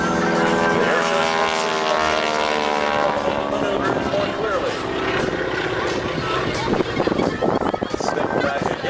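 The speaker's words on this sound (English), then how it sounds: "airplane going up, and he rotates the airplane a full 360 degrees as he climbs" A propeller airplane flying a climbing aerobatic torque roll at an air show drones loudly with a shifting, pitch-sliding engine note, while a commentator talks over it.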